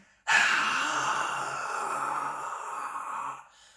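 A voice imitates heavy open-mouthed breathing during kung fu practice, a single long, loud, breathy exhalation lasting about three seconds.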